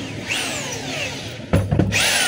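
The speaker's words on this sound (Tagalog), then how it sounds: "testing natin yung hammer mga kabay kung gumagana" A DeWalt D25032 rotary hammer runs on a test with a steady high whine that rises in pitch as it spins up, then a couple of short louder bursts and another spin-up, close and loud.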